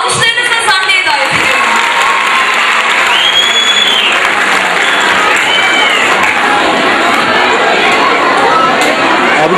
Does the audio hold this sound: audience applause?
yes